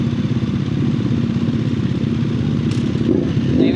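A Kawasaki-style 675 NK motorcycle on its stock exhaust runs steadily close by, giving a loud, continuous engine and exhaust rumble that lasts the whole stretch.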